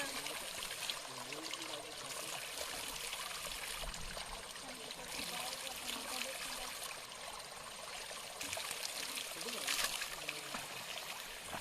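Spring water running out through a fitted pipe on a forest hillside gives a continuous trickling, splashing flow that stays steady and close for the whole stretch, with faint voices in the background.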